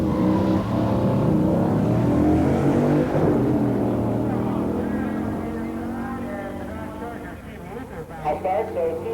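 A 1969 Plymouth Roadrunner and a 1970 Charger Hemi 4-speed roar down a drag strip at a pure stock drag race, engines loud and then fading into the distance, with an announcer talking over them.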